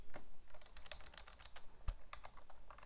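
Fast, light typing on a computer keyboard while writing Java code, quiet irregular clicks in quick bursts with a single sharper keystroke near the middle, no voices.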